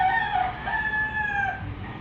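A chicken crows with a clear, close, drawn-out cock-a-doodle-doo call in a couple of rising and falling phrases, standing alone with no talking over it.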